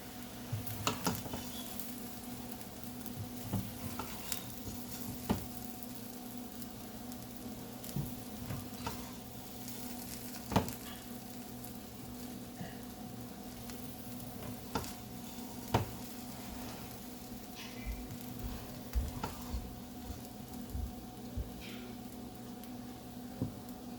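Egg fried rice being stirred in a pan, seasoned with white pepper: a steady, low sizzle with repeated scraping and clinking strokes of the spatula, close and moderately quiet, going on without talk.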